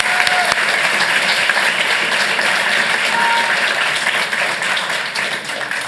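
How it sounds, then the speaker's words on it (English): Sustained audience applause fills a city council meeting in Santa Ana, steady and dense throughout, with a brief electronic tone briefly audible over the clapping. "yes, she deserves a round of applause."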